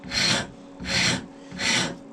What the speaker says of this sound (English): So I'm going to do that rather simply with a large rasp.